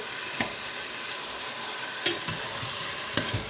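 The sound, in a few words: minced steak frying in pan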